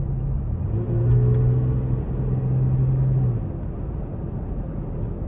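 A 2017 Toyota Tacoma pickup engine, about 82,000 miles, rumbles and rises under light throttle while driving off road, a steady low drone swelling then easing back, heard from inside the cab with no talking.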